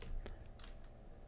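Quiet clicking of a computer keyboard as Lua code is typed for a Minetest game mod, a few soft keystrokes scattered across a faint background.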